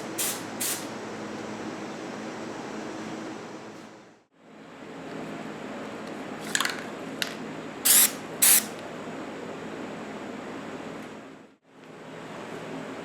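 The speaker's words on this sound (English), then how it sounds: "I'm going to spray paint white over it" White aerosol spray paint hisses in long, steady bursts onto a DIY fishing net, separated by two short pauses, with a few brief, sharper spurts in the middle.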